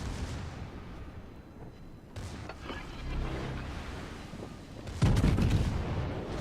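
The Jean Bart battleship's secondary guns fire in a World of Warships naval battle, heavy booming reports arriving in separate blasts with rumbling tails, the loudest salvo near the end.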